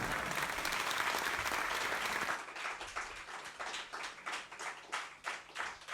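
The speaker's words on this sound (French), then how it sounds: "Applaudissements pour Wilfried Levray avec nous sur cette scène du Gueulard de Nilvange." A theatre audience applauds performer Wilfried Levray on the Gueulard stage in Nilvange, first a dense roaring ovation, then thinning into fewer scattered claps that settle into a slower, rhythmic clapping pattern.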